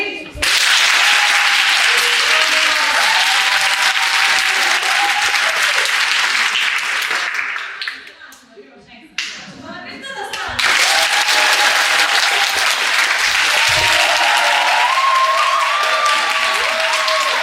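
An audience at a children's dance festival claps in two long bursts, one side of the hall after the other, loud and sustained, separated by a short quieter gap where a voice is heard.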